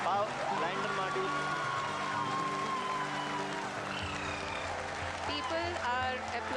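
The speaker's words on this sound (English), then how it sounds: "People are applauding." Applause from a crowd at an ISRO space event, steady dense clapping at moderate distance mixed with a background announcer's voice and hall ambience.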